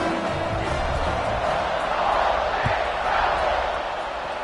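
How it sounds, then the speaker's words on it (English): Football stadium crowd at a Buckeyes game, a steady loud roar and buzz after a score, continuous dense murmur with no distinct cheers standing out. "this crowd is buzzing after that last score"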